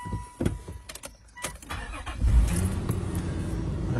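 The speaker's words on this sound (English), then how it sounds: "I've got to start it up first" A 2001 Nissan Elgrand engine starting, with a few clicks and clunks before the engine cranks and catches, then settles into a steady close idle.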